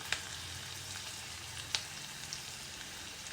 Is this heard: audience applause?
no